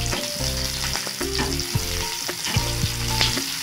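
Onions hit a hot pan for gobi manchurian and sizzle sharply, with stirring clatter and scrapes through the short burst. No voices.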